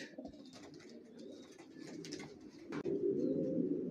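A pair of adult racer pigeons coo softly close by, low throaty murmurs repeating and growing fuller toward the end, with faint higher chirps in the background.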